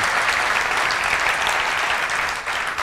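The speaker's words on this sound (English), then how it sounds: "How about a round of applause for everybody that's watching online?" Church congregation applause at a Sunday service fills the room in a loud, dense wash of clapping that holds steady, then fades a little toward the end.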